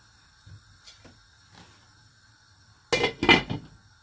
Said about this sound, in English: So now I am just going to close the lid